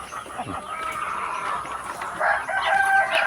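Several chickens cluck and squawk close by as they are offered ripe bananas, with a rooster-like crow rising near the end amid a busy rural farmyard chatter of birds.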